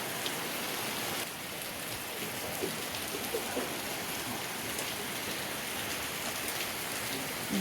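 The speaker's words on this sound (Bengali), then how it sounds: "সকাল সকাল দেখো কেমন বৃষ্টি হচ্ছে" Steady rain falls continuously, a dense even hiss with scattered drops pattering nearby.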